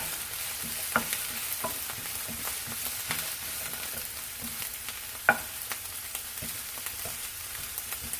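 Onions fry in a pan with a steady quiet sizzle, punctuated by scattered clicks and a sharper knock of a utensil stirring against the pan, no talking.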